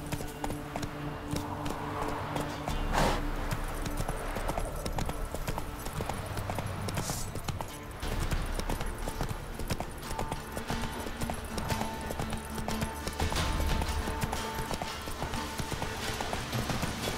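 A horse's hooves clip-clop steadily over ground in The Witcher 3 video game, the rhythmic beat running throughout under a bed of game music and ambience.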